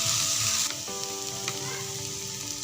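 Chicken with added spices sizzles and fries steadily in a hot pan while being stirred, a continuous close crackle with faint scraping and no talk.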